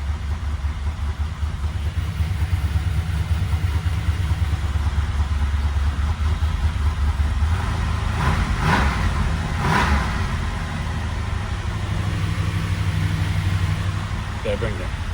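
A 385ci LT1 V8 with AFR heads, freshly installed in a 1996 Impala SS, idles steadily at a high startup idle on its first start, close and loud, with a couple of brief revs partway through and some voices in the background.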